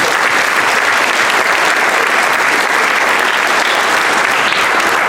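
A large high school audience at a senior awards ceremony claps loudly and steadily for the outstanding senior nominees, a dense, sustained wash of applause with no break.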